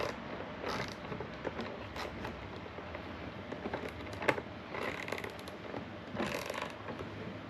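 Someone tightens a part on a car with a ratchet as hard as possible, repeated close mechanical clicking and creaking in short bursts over faint background noise, with no talking.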